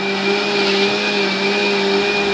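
Mixer grinder whirring steadily as it blends an onion and tomato gravy, a loud, even motor drone with a constant high whine throughout, close by and without voices.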